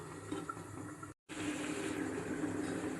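A small splash of water pours steadily into a pressure cooker holding mutton pieces for a Bengali curry, with a faint continuous trickle and a brief dropout partway through.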